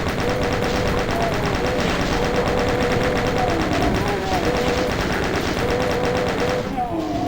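A chaingun fires in the Doom 2 video game, a loud, continuous rapid rattle of shots with game sounds mixed in, ending in a brief burst of other noise.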